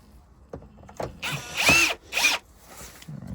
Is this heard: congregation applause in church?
no